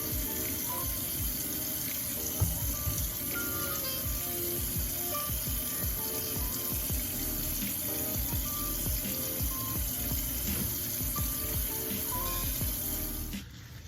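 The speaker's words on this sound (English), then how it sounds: "Went ahead and get some hot water as hot as I can get all the shampoo out." Hot tap water runs steadily while shampoo is rinsed out of locs, a continuous splashing hiss with irregular spatters as the stream hits hair, lasting nearly fourteen seconds before stopping.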